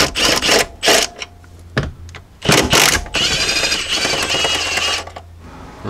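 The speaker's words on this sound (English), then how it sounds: "So I got a deep socket with a swivel on there, and we'll get these guys out." Ratcheting and clattering of a deep socket on a swivel loosening 13 mm nuts under a Jeep Cherokee XJ during heater core work; close, loud bursts of clicking come in irregular spurts with short pauses between, and no talk.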